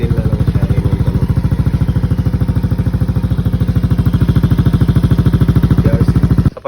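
Yamaha Aerox scooter with a TRC pipe and silencer idles up close, a loud, even, rapid low putter that pulses steadily throughout, then cuts off at the end, no talking.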